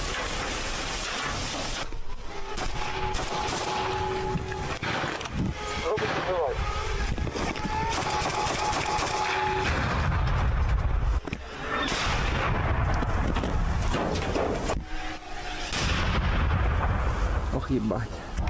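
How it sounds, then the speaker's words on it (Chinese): Artillery fire and gunshots on the Ukrainian front line: heavy booms and rumbling blasts follow one another almost without pause, with sharp rifle cracks and whistling shells overhead in a loud, dense barrage. "空中是不断有炮火飞过的呼啸之声"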